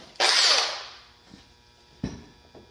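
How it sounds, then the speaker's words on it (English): A power drill with a 3/16-inch bit drills holes for a front splitter on a 2019 Volkswagen Arteon, whirring in a loud burst that winds down, followed by a couple of shorter, quieter bursts close by. "we got like a gajillion holes to drill now"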